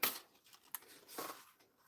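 Scissors snip a few times close by, with short crisp cuts and small rustles in a quiet room.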